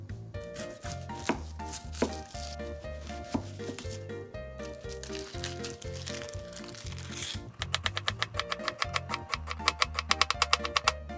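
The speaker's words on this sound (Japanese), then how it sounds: "まず玉ねぎを薄くスライスします。" A knife thinly slices an onion on a cutting board for oyakodon, with steady rapid chopping taps that speed into a quick crisp run near the end, close and fairly quiet.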